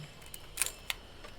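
A Minolta SRT201 film camera with a Minolta Rokkor-X 50mm f1.4 lens fires its shutter at 1/1000 speed, giving a sharp mechanical clack followed by a second lighter click, close and distinct against quiet.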